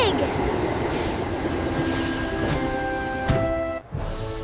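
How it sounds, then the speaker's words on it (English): A train pulls into a station with a steady broadband rumble and a long tonal hum that holds on, ending in a sharp hiss like an air brake release, heard fairly close. "Look! It's coming! That's our train."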